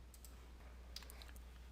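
A computer mouse clicking Next during Windows Server DHCP setup, a few faint, quick clicks over a quiet low hum.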